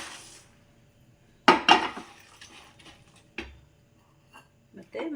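Fried ingredients are scraped and tipped from a pan onto a plate for a homemade protein powder recipe, giving a few sharp metallic clinks and scrapes with quiet gaps between them.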